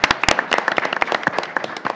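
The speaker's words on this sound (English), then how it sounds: "Another round of applause to our Eagle Scouts." Clapping for Eagle Scouts at a school board meeting: a small room's scattered hand claps, sharp and fairly loud, with uneven rhythm for about two seconds and a few voices mixed in.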